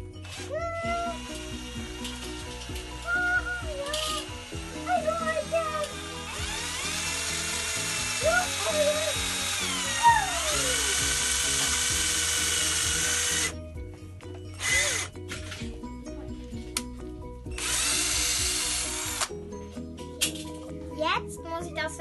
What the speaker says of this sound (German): Okay, jetzt bohre ich.